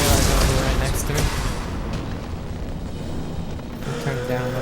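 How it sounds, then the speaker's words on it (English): Loud booming explosions in the sci-fi shooter Mass Effect 2, aboard a derelict Reaper near a high-pressure tank. They burst heavily at the start and rumble on in a continuous, dense barrage of blasts and combat noise throughout. "the explosions are really loud"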